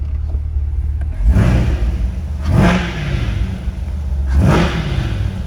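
A 2020 Corvette Coupe 2LT in Z mode with the exhaust open revs three times in sharp, rising bursts over a steady idle rumble, loud and close, with no voices.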